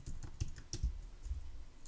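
A computer keyboard being typed on while programming code, a few soft irregular keystrokes close by over steady background hiss.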